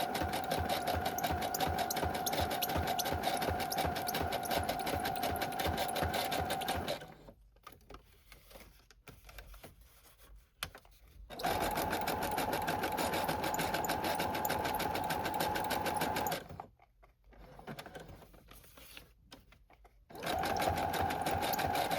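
A sewing machine back stitches along the edges of a dust jacket journal, running in steady loud bursts broken by two short pauses, with no talking.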